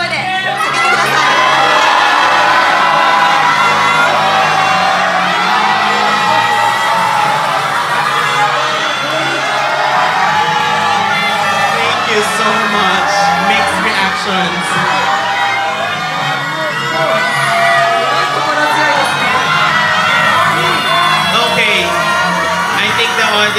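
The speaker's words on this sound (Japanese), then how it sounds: "I want to give the audience members the last chance to shout and root for your favorites." Pageant audience at a Japanese beauty contest shouting and cheering loudly for their favourite contestants, a dense continuous roar of voices, whoops and high-pitched shouts filling the hall throughout.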